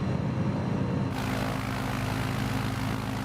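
A steady, loud drone from a propeller airplane engine in Microsoft Flight Simulator 2020, flown on a bush trip from Breckenridge to Yosemite. The tone shifts sharply about a second in and then holds even.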